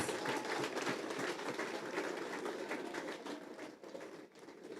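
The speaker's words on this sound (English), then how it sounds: "Can we give them a hearty clap?" Scattered, moderately loud applause from a crowd at a school cheque distribution ceremony, a steady patter of clapping hands that thins slightly near the end.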